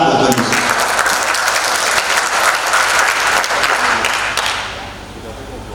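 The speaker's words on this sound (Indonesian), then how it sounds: "Tepuk tangan buat Indonesia" A large audience at an economic outlook event applauds loudly and steadily for several seconds, the clapping thinning slightly toward the end while some voices mix in underneath.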